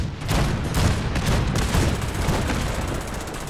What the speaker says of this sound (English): Let's fire the cannons again.